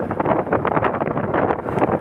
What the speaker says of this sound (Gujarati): ફૂલ પવનનો અવાજો